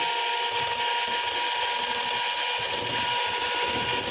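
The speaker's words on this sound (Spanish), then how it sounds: "Sin dejar de batir, echamos nuestra mezcla de limón con la cáscara." A lemon juice and zest mixture being beaten into a sweet dessert mixture, giving a steady, loud mechanical whir with a faint rattling texture that runs throughout without a pause.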